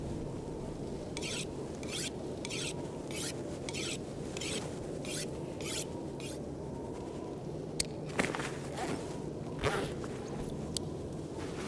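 A tool is sharpened in The Long Dark, with repeated short grinding rasps in a regular run, then a few scattered scrapes over a constant crackling background with no talking.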